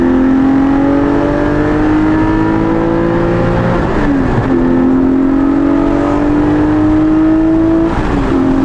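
A Porsche 718 Cayman GT4 with an aftermarket axleback exhaust revs up and holds steady, climbing in pitch twice with a brief dip between, loud and close with no talking.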